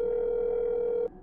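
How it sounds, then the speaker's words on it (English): A phone dial tone in a horror video game, one steady pure tone held for about a second before cutting off abruptly, clear and alone. "Did you dial your phone?"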